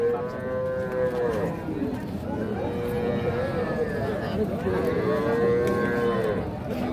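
A desi breed cow and her calf moo repeatedly at a busy cattle market, with long drawn-out calls rising and falling close by over a steady murmur of crowd noise and background voices.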